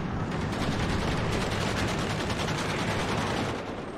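MG3 machine guns on M113 armored carriers rattle in sustained, rapid automatic bursts during a WARNO battle, loud and continuous for several seconds before easing slightly at the end, with no voices.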